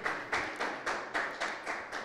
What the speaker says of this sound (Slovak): Tak ja vás poprosím jeden potlesk pre moje kolegyne z Výskumného ústavu bezpečnosti práce